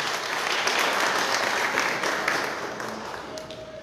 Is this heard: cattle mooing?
no